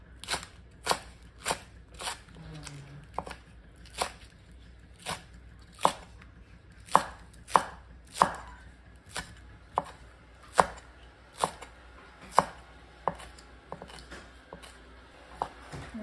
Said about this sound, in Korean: 먼저 썰고